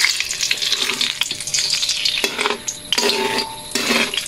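A ladle stirs sugar melting in a hot pan for bananacue. A bright hissing sizzle runs throughout, and close metallic scrapes of the ladle against the pan come in a few distinct strokes near the end.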